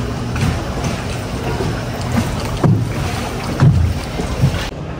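A boat moving along a narrow canal in Venice, with water churning and wind buffeting the microphone, a steady low rumble with a few louder splashes and bumps throughout.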